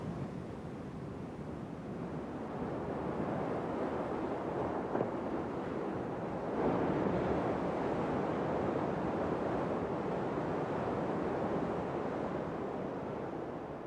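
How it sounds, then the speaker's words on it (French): Atlantic ocean waves at Banc d'Arguin in Mauritania roll in and break on rocks, a continuous broad wash of surf with swelling surges and a gusty, wind-blown edge, heard from nearby. "regarde et écoute l'océan et ses vagues jusqu'à ce qu'elles se brisent sur les rochers"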